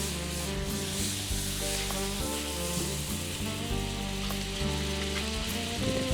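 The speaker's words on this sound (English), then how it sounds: "I want you to hear that sizzle because it's so important to how the steak's going to turn out in the end" Butter sizzling in a hot pan before a grass-fed Kerrygold ribeye goes in, a loud, steady, crackling hiss heard up close with no voices.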